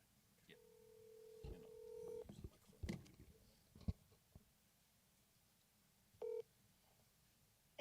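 A desk phone in a town council chamber dials out, with a short run of keypad tones followed by a later burst of beeps, against quiet room noise, clicks and a few murmured words.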